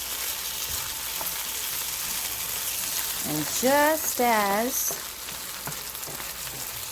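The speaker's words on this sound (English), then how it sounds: "it's on very high heat, so it should be frying up rather quickly because I see my chicken is" Chicken fries on very high heat for fried rice, a constant close sizzle and crackle running throughout while a voice briefly speaks over it midway.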